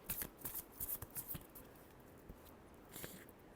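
Tarot cards are shuffled quietly by hand in quick papery bursts, busy at first and then thinning to a few soft flicks.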